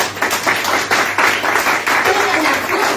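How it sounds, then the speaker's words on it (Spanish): Congregation clapping loudly at a church service, dense rhythmic applause from many hands with voices mixed in over a few seconds. "Denle un fuerte aplauso al Señor"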